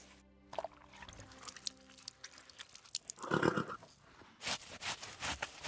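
A bay horse in Kingdom Come Deliverance II lets out a clear neigh midway, bracketed by scattered clip-clopping hoof thuds and soft background game sounds, with no voices over it.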